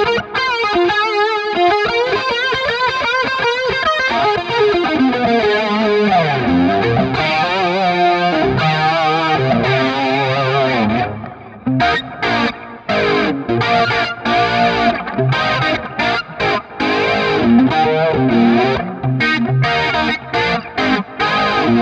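Electric guitar played through a Line 6 Helix running the TJ Sold 100 overdrive preset on its chorus snapshot, a loud, continuous driven tone with shimmering modulation, sustained chords giving way to choppier, stop-start phrases in the second half.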